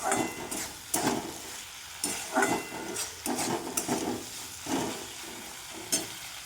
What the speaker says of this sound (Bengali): দেখুন বন্ধুরা ভালো করে কষতে হবে